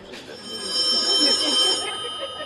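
An old-style telephone bell rings steadily on stage during a live comedy performance in an open-air amphitheatre, a bright continuous electric trill heard over faint room and audience noise.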